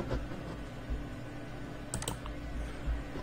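Someone types a g++ compile command on a computer keyboard, producing a steady run of soft, close key clicks with a few sharper taps, over a low room hum.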